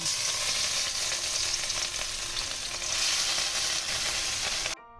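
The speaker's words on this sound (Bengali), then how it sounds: "মাছগুলোকে প্রথমে ভেজে তুলে নিচ্ছি" Pieces of rohu fish fry in mustard oil in a kadai with a dense, bright, continuous sizzle up close, cutting off abruptly at the end.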